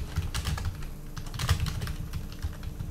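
Brisk clicking of computer keyboard keys in quick bursts, close and fairly loud, the keystrokes bunching into short runs with brief gaps and no voices.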